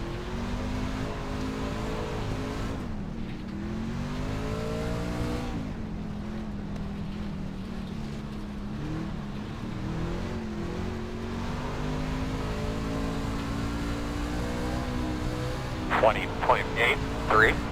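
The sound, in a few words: dirt race car engine in iRacing video game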